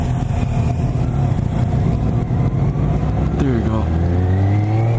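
A 2018 BMW K1600 GT motorcycle engine hums loudly while riding, then revs up with rising pitch near the end, with someone talking over it.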